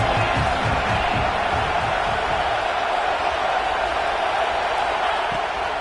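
Football stadium crowd roaring for the defense on a big third down, a dense, steady wall of cheering and noise filling the whole stretch.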